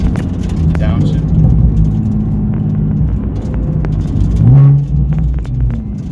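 Nissan 370Z with an RJM clutch revving and downshifting, a loud continuous engine rumble that swells with a rev blip near the end, with talk over it.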